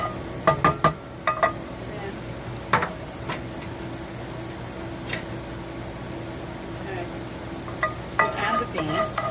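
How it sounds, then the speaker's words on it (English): Garlic sizzles quietly in pork drippings in a pan, a soft steady frying hiss broken by sharp clicks and clatters of a utensil against the cookware. "Just enough till it starts sizzling."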